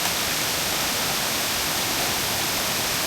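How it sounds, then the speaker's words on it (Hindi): Triplet Falls, a waterfall in a redwood forest, pours in a dense, steady roar of rushing water, loud and close, with no break throughout. "देखो वो पानी वाटरफॉल यहाँ पे"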